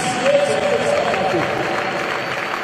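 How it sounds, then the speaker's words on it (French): A church congregation in Brazzaville applauding and cheering for Jesus, a sustained wash of clapping and raised voices that holds steady throughout, with a voice audible over it. "On acclame Jésus."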